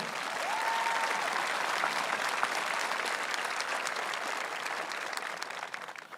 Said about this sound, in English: Please join me in a round of applause congratulating the class of 2022.